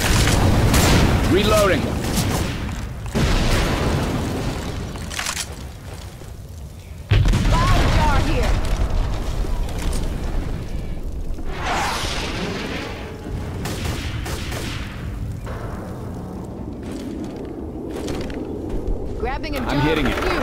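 Molotov cocktail fire bursts and repeated gunfire in Left 4 Dead 2, loud dense booms and crackling shots running throughout, with players talking over the chaos.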